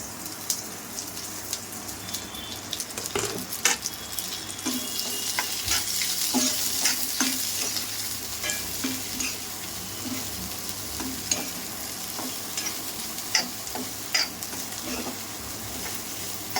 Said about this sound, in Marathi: भेंडी याच्यात थोडासा फ्राय करून घेऊ आपण पहिला.